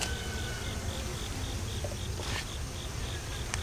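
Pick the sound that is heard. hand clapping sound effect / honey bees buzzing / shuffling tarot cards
honey bees buzzing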